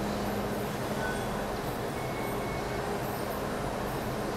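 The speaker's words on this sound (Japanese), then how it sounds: "扉が閉まり列車出発です" A Hong Kong Disneyland Resort line subway train pulls out of the station, giving a steady, loud, continuous rumble of wheels and motors that fills the space throughout.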